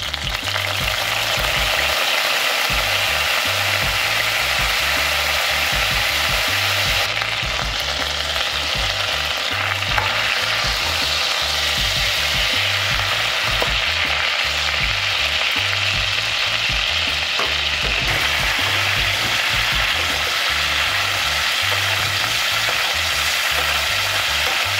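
A bluefin tuna eyeball fries in a pan with a loud, steady sizzle and crackle that holds for the whole stretch, close up and without any voices.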